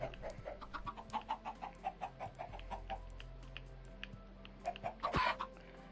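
Chickens cluck in a rhythmic series of short, moderately quiet calls on a farm in the video game Minecraft, with a sharper squawk near the end.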